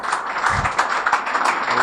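An audience breaks into a steady wash of applause to welcome a speaker at an evening youth event, the dense clapping continuing throughout.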